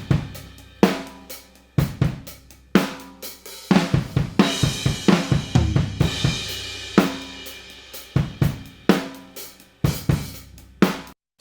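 An acoustic rock drum kit plays a steady groove with punchy kicks, snare hits and washy cymbals, heard through ribbon overhead microphones with no processing, no voices.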